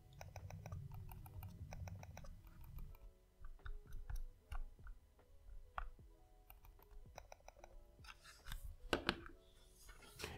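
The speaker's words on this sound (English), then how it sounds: "Logitech has quietly changed their newer generation mice to use another type of mouse click button, the quiet type that doesn't make a click sound." Clicks from the quiet-type buttons of a Logitech Signature M650 wireless mouse, a quick series of soft, close taps in irregular bursts, some rapid and some spaced apart, with no voices.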